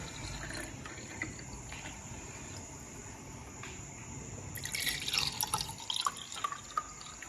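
A homemade healthy juice poured out to serve, a faint trickle at first that swells into a brighter, splashing stream with dripping toward the end, close by with no talking.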